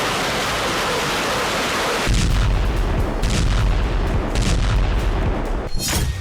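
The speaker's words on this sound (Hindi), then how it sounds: "ज़ेपोरिजिया में रूस ने भीषण बमबारी की।" Heavy bombardment explosions in Zaporizhzhia, Ukraine: loud broadband booming roar that surges and stays dense for several seconds, with a sharp crack near the end, and no voices.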